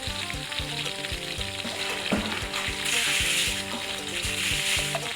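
Pork sizzling and popping steadily as it fries in hot oil, a loud continuous crackle close up with no voices over it.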